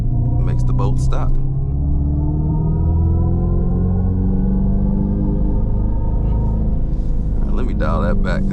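Synthetic engine drone piped through the cabin speakers of a 2026 Dodge Charger Scat Pack EV sedan, a steady low rumble with rising and falling harmonic sweeps throughout the drive, under brief talk at the start and end.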